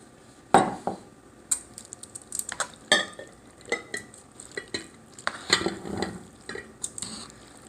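Noodles are mixed with Parmesan cheese and whisked eggs in a bowl, with close, irregular clinks and wet scraping strokes in uneven bursts and short pauses between them.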